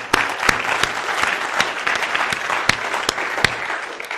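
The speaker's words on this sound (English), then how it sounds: "let's give a round of applause for all the folks that make NolaCon possible." Audience applause at NolaCon 2017, a security conference, a steady dense wash of many hands clapping with a few sharper individual claps standing out, sustained at even loudness throughout.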